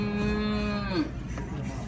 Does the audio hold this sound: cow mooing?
yes